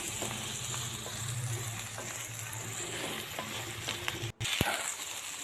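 Chopped tomatoes sizzle steadily in a pan of oil with ginger garlic paste for a fish curry, a close continuous frying hiss with occasional stirring scrapes and a brief clatter near the end.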